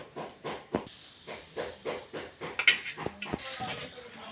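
Rice flour dough being mixed with hot oil in a bowl, heard as a steady series of soft rhythmic scrapes and knocks, roughly two per second, close and fairly quiet with a faint clink partway through.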